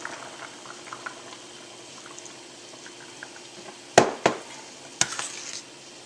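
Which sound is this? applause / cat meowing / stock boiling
stock boiling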